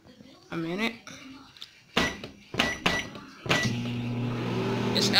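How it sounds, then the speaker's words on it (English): A few clicks and beeps, then a microwave oven starts reheating lemon pepper chicken and rice for a minute, with a steady low hum that keeps running to the end. "Put it in the microwave."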